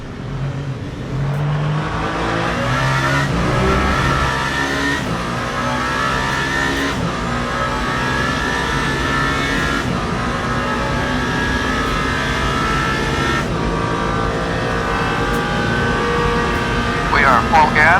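Race car engine held at full throttle in Le Mans Ultimate, a loud, steady, high-revving drone with brief gear-shift dips, running continuously under a commentator's voice.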